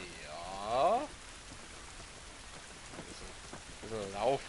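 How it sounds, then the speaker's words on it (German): Rain falls steadily in the video game The Last of Us, a soft continuous patter on surfaces. Brief tonal game sounds rise near the start and again near the end. "Jetzt regnet's."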